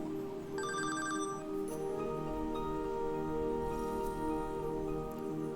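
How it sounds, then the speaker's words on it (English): A telephone rings with clear repeating electronic bell tones, loud and close, alongside steady low background hum in an indoor room. "My phone just rang and I wasn't expecting that."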